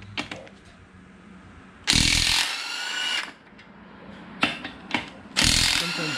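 An impact wrench hammers out Loctite-secured bearing cap bolts on a 14-bolt axle during a Jeep build, in two loud, rattling bursts of roughly a second each, with quieter shop noise between them.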